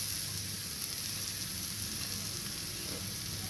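Radish pieces fry in masala in a pan, giving a steady, close sizzle with soft crackle and occasional stirring throughout, no voices.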